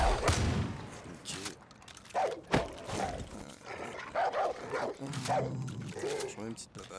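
Dogs barking in the video game Far Cry 5, several sharp barks and growls mixed with gunfire bursts, while someone talks over the action.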